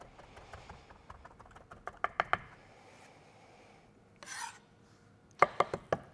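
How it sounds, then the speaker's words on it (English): A knife finely chops garlic on a cutting board in quick rhythmic taps, with a short scraping sweep before a few final sharp chops. "And then I'll be sure to run my knife through that a few more times, trying to get it really nice and fine."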